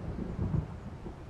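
Low, distant storm thunder rumbles in the game Alan Wake, a brief muffled roll with no voices.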